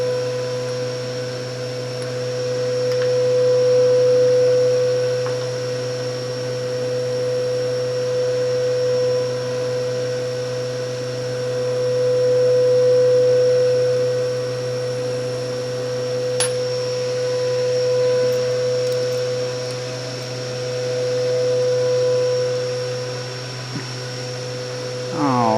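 A milling machine runs steadily in a workshop while a VIN tag is stamped, giving a constant mechanical hum and whine that stays level for the whole stretch, with a faint tap near the end.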